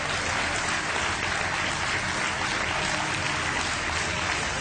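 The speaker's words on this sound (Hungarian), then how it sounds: "Nagy tapsot kérünk Ágnesnek." Audience applause at the Miss Hungary 2014 beauty pageant, a dense, steady wash of clapping that holds loud and unbroken throughout, with no talk over it.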